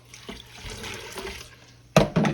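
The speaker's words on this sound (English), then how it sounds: "We're gonna fill it up with water." Water streams from a tap into a pot to make baby lima bean and ham soup, a steady rushing splash that swells louder near the end, with no talking.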